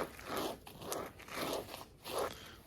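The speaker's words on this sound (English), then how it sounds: "trying to stay in the crunchy stuff." Boots crunch on snow beside a glare-ice driveway with four or five slow, even footsteps, each a close, crisp crunch.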